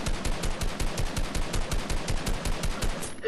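Rapid automatic gunfire in the Fortnite video game, a steady close burst of evenly spaced shots rattling for about three seconds with no talk.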